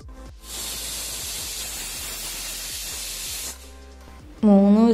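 A pressure cooker cooking chicken biryani lets off steam in a loud, steady hiss that lasts about three seconds and then cuts off, followed by a brief tonal sound at the end.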